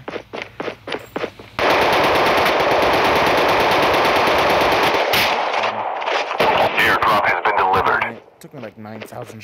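Gunfire in Call of Duty Mobile: scattered shots give way to a long, loud, sustained barrage of rapid automatic fire, then trail off into separate bursts.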